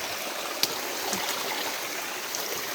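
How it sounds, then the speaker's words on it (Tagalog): A small stream fed by rainwater flows steadily outdoors, a soft continuous rush and trickle with a few faint splashes and no voices. "May gamay sapa diri gikan siya sa mga inulan."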